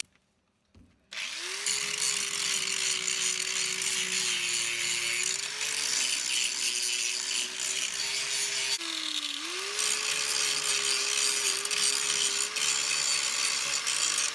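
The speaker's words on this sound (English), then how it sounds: "So I'm going to just grind this up a little bit" Angle grinder grinding welds on a steel front dozer blade for a Massey 50 tractor, starting after a brief quiet moment and then running loud and steady, with a short pitch dip partway through.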